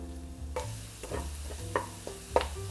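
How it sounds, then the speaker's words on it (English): Half a large onion frying in a big pat of butter in a pan, with a faint sizzle under several clinks and scrapes of a utensil against the pan. "We're gonna fry up half of a large onion."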